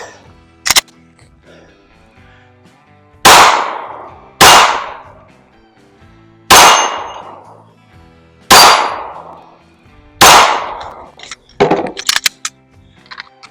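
Competition shooting training yields five loud, sharp gunshot cracks spaced roughly two seconds apart, each with a ringing tail, plus a smaller clack early on and clattering metallic handling noises at the end.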